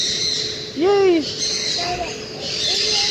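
A parrot perched on a wall gives a loud rising-falling squawk, then softer calls, with people talking nearby at a zoo.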